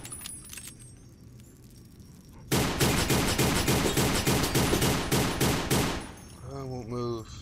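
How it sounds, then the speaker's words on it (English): Gunshots fired at bottles in Fallout: New Vegas: a quiet stretch, then a loud run of about a dozen rapid shots in quick rhythm, followed by a short burst of brighter tones. "we're gonna come up here to shoot these bottles"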